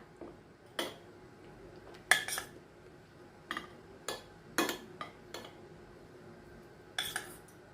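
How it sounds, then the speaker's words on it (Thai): Clinks and taps of cutlery against plates and dishes while salmon steak is plated with potatoes, a Norwegian-style meal; several short, sharp, irregular knocks, close and fairly quiet, with no talking. "เรามาจัดจานเสิร์ฟกันเลยนะคะ"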